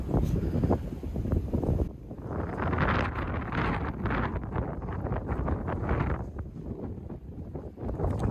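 Strong wind buffeting a microphone outdoors in open countryside, a loud continuous rushing roar with gusty surges and no break.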